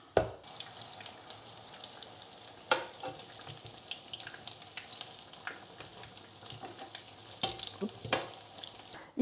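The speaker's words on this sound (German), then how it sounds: "Ich habe jetzt alles fertig frittiert." Potato patties with egg sizzle and crackle steadily in a full pan of hot oil, with scattered sharper pops and spatters over nine seconds, close and alone without talk.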